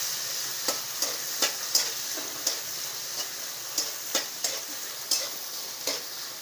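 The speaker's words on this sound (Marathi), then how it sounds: "टमाटर चांगलं असं पाणी होईपर्यंत परतून घ्यायचं." Tomatoes sauté in hot oil with mustard seeds and cumin, a continuous soft sizzle broken by regular spoon-on-pan stirring clicks roughly every half second, close and alone without voices.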